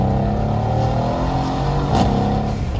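A Mercedes C63s AMG running a JB4 tune pulls hard in second gear from inside the cabin, a loud, steady engine roar with dense low harmonics that holds throughout and swells slightly near the end, with no talking.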